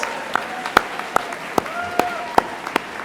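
An audience at a Class Night award ceremony breaks into applause, with sharp distinct claps spaced roughly every 0.4 seconds rising over a low room murmur, while a voice talks faintly in the background.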